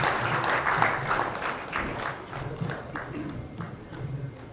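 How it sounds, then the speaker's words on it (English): An audience at a high-level dialogue on a refugee plan gives panelists a final round of applause, a fairly soft, even patter of many hands that thins slightly toward the end. "A final round of applause, please, to our great panelists."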